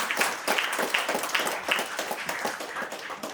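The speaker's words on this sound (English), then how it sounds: "Let's hear another round of applause for Siri." An audience claps for Siri at a celebration of her accomplishments, with a brisk, fairly even rhythm of hand claps at moderate volume and no voices.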